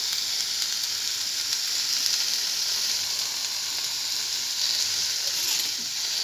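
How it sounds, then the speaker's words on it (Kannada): Unripe tomatoes frying in hot oil for tomato chutney make a steady, close, even sizzle and hiss that holds without pause throughout. "ಕಾದ ನಂತರ ಈಗ ನಾನು ಟೊಮೆಟೊ ಕಾಯಿನ ಹಾಕೋತೀನಿ ಫ್ರೆಂಡ್ಸ್. ಇದನ್ನು ನಾನು ಟೊಮೆಟೊ ಕಾಯಿನ ಹುರ್ಕೊಳ್ಳೋ ಅಂತೀನಿ."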